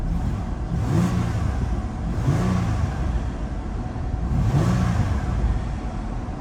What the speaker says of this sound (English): give it a little rev here